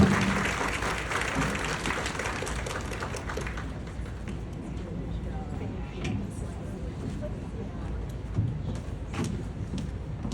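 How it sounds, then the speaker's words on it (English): Applause from a conference audience after a keynote at a health and wellness institute, dense clapping that starts strong and gradually thins to scattered claps by the end. "Round of applause."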